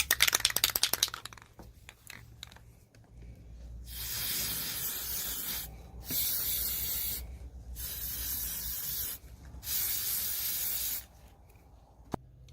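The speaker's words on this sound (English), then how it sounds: "I am going to start painting or spray painting the hardware in a flat black color." Spray can hissing in several long bursts as furniture hardware gets a flat black coat, each spray lasting a couple of seconds with short pauses between, close and steady, after a few light handling clatters at the start.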